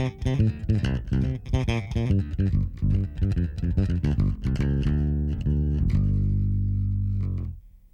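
A bass guitar plays a shuffling blues pattern pizzicato style, with plucked notes in a steady swung rhythm, close and clear, ending on a sustained low note that rings out and stops.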